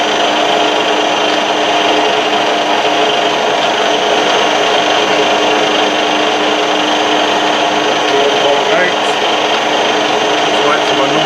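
Machining on a lathe while cutting a shallow thread for an ER32 collet, a loud, steady mechanical whine with constant tonal hum that runs unbroken throughout, close by.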